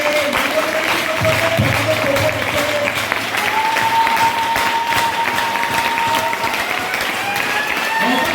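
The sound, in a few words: church congregation applauding for the Lord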